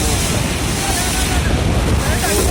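Strong wind drives heavy, rain-like water spray, a loud dense roar of rushing air and water that holds steady throughout with no clear pauses.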